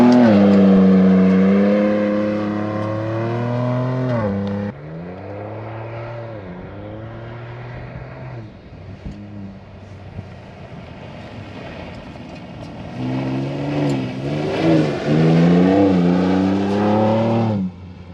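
Ford Ranger Raptor pickup driving hard on a gravel and dirt off-road trail, its engine revving and climbing through gears, easing off in the middle, then surging loudly again.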